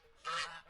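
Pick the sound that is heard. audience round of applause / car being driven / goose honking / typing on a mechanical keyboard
goose honking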